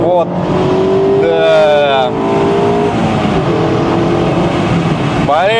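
Mazda MX-5 with a manual gearbox revving hard and loud up close, rising through gears with clear shift breaks, and speech faintly under the engine.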